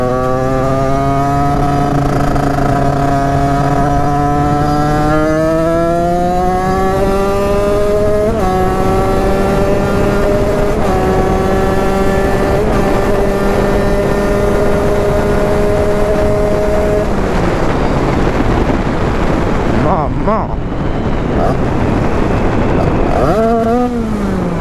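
A scooter fitted with an 86 cc TPF kit screams at full throttle, its pitch climbing in long sustained pulls with slight stumbles, then breaking into a rougher, choppier sputter near the end; loud, close and continuous.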